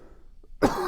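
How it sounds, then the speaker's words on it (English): A single sharp cough close to the microphone, after a moment of near silence. "Sorry about the cough."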